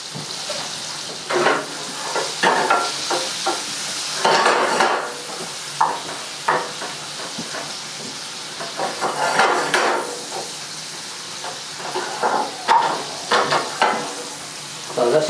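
Pieces of beef tenderloin sizzle in a hot pan while a utensil stirs and scrapes against the metal in irregular bursts, close and fairly loud.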